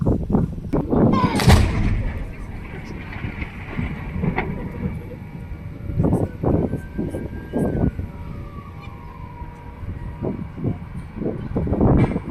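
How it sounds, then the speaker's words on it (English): Booming blasts echo across open ground, one loud close shot followed by rumbling reports and distant background noise. "We hope the cannon was loud enough for you."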